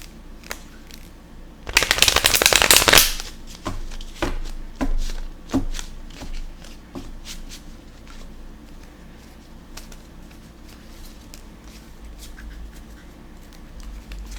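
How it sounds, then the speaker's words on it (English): A tarot deck is riffled and shuffled by hand at close range: a loud burst of ruffling cards, then a series of softer taps and slides settling into quiet handling, with no talking. "Okay, I'm going to shuffle the deck."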